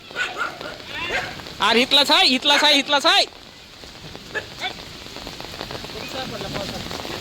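Heavy first rain of the season in Baramati falls as a steady, dense hiss throughout, while dogs bark in a quick cluster near the start and a person talks.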